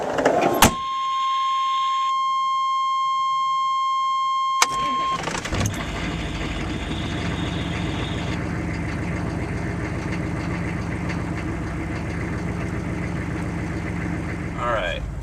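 A 6.5 diesel truck fitted with an HX35 turbo cranks over briefly, catches and fires up, then settles into a steady, loud, rumbling idle that runs to the end, close by.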